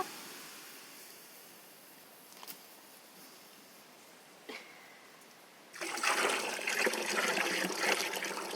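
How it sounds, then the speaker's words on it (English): Water pours into a pot in a forest hot tent, starting as a quiet hiss with a couple of small knocks, then turning into a louder, steady rushing splash for the last few seconds. "I'm putting another pot of water on so I can do dishes."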